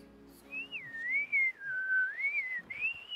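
A sea diver surfacing exhales in a long, wavering high whistle of breath, rising and falling in pitch for about three seconds, heard alone and fairly close.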